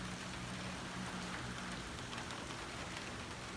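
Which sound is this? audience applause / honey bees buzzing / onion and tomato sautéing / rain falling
rain falling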